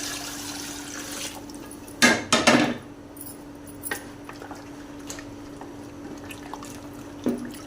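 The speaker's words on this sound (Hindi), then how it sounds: "तो अब हम इसमें पानी डालेंगे 3 किलो।" Water goes into a pot of browned mutton karahi: a short burst of pouring and splashing against metal, then clinks of the pot and utensils, near and moderately loud over a steady kitchen hum.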